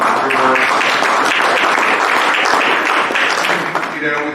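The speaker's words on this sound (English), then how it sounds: "Let's give a round of applause for your work" A room at a city council election forum breaks into sustained applause, with overlapping voices running beneath the steady clapping before it thins out near the end.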